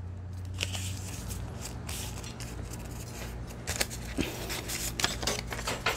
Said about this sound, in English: I'm going to take this, I'm going to fold it in half.